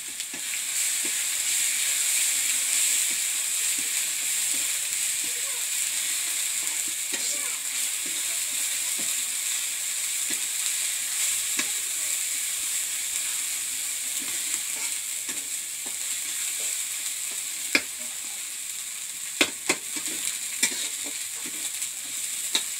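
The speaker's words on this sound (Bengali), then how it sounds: "এখন দিদি রসুন বাটা দিচ্ছে।" Garlic paste frying in a pan of village-style oyster curry with chili powder already added: a steady, fairly loud hiss and sizzle runs throughout, with sharp clicks of stirring near the end.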